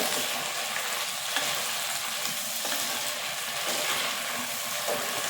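Turkey berries (sundakkai) sauté in a hot pan, giving a steady, close broadband sizzle with a few soft stirring scrapes and no voices.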